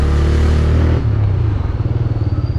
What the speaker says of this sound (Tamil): ஸோ நான் வந்து கொஞ்சம் 40 போய் பிரேக் அடிச்சு பார்க்குறேன்.